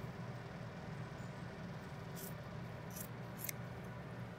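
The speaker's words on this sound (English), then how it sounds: "I keep flipping the scissors back and forth." Scissors snip through a Sheltie's coat during grooming, giving a few quick, faint metallic clips near the end over a steady low background hum.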